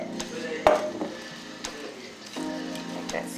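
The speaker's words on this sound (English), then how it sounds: "You can kind of mix it up a little bit, you know, try to coat your yams really good." A utensil stirs and scrapes through a dish of sticky candied yams, with a few sharp clinks against the dish and soft wet mixing sounds between them, close up and fairly quiet.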